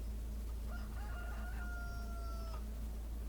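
A cockerel crows in Farming Simulator 25, one drawn-out cock-a-doodle-doo at moderate distance over a steady low background hum, with no talk.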